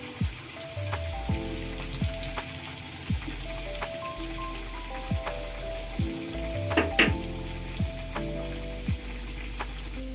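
Oil sizzles and crackles steadily as chicken patties fry, three at a time, with soft scattered pops and a few light clinks over a constant frying hiss.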